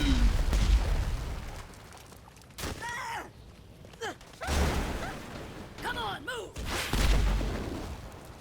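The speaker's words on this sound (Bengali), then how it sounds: "এই রোবট হাল বম মারছে" Booming explosions from bombs thrown by a robot Hulk in GTA 5, several heavy blasts spaced across the scene with excited talking in between.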